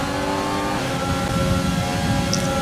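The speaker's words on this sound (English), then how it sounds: "I get a good run, and I've overtook Hamilton to P3." A Renault Formula 1 car in the F1 2020 racing game screams at high revs as it races, a loud continuous engine whine that shifts in pitch while accelerating out of a chicane.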